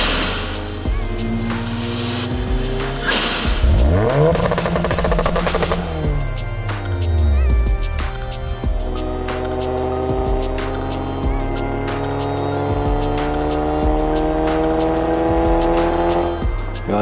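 A loud Audi S1 Quattro Turbo engine with a throaty, track-modified sport exhaust revs up and down, rising and falling in pitch, close by and continuous.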